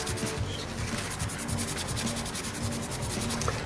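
Back to Black trim restorer being wiped onto the plastic of a Sega 32X console, a close, steady rubbing scrub repeating in quick strokes.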